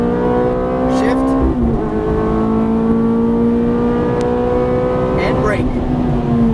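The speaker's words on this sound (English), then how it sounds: "And that engine screams, doesn't it?" A Ferrari F430 engine screaming at high revs on a racetrack, loud and continuous from close by, with pitch shifting through a gear change and steady high-pitched wail throughout.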